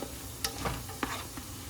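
Aromatics sizzling in a pan for Bolognese while being stirred, with a soft, steady sizzle and a few light scraping clicks from the stirring, close and quiet.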